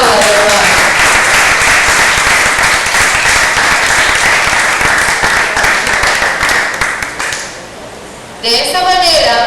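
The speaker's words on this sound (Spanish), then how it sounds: "Aplaudan, hermano." A church congregation applauding, a loud, dense wash of many hands clapping that fades away, followed by a voice speaking.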